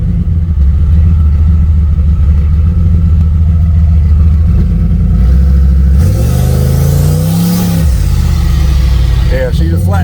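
A boosted Chevy C20 truck in first gear during a foot brake stall test idles with a loud, heavy rumble, then revs hard, its pitch climbing and falling back before it drops off.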